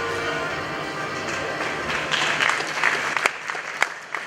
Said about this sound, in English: With another big round of applause